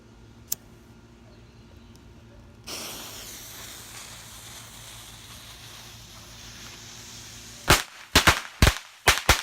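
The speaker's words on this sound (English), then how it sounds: "Those are pretty loud for a pack of firecrackers." A pack of Viking firecrackers set off outdoors, with a hissing fuse before a quick run of loud, sharp bangs near the end.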